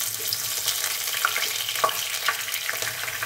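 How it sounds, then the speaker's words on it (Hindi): Cauliflower fries in oil for aloo gobhi, giving a dense, even sizzle with scattered small pops and crackles, close and continuous throughout. "अब हम इसी ऑयल में थोड़ा सा गोभी को भी फ्राई करेंगे"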